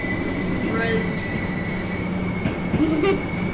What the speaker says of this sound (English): here's a train going to Brighton